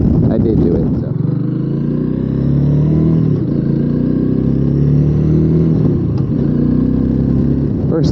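A Honda Rebel 300 motorcycle engine runs loud and close, revving and rising in pitch across the stretch with a few throttle blips, while someone talks over it at the start.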